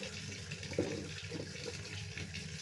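Water pours into a cooking pot to boil freshly caught fish for the second change of water, a steady faint gushing stream with a small splash early on, close and without talk.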